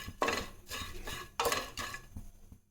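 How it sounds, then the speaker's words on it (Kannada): Dried shrimp dry-roasting in a pan, heard as close, uneven scraping and clinking of a spoon against the metal in several bursts, with no voices. "ಎಷ್ಟು ಚೆನ್ನಾಗಿ ಹುರಿತಾ ಇತ್ತಂತ ಈ ಥರ ನಾವು ಕ್ರಿಸ್ಪಿ ಆಗೋವರೆಗೂ ಹುರ್ಕೊಂಡ್ಬಿಟ್ಟು"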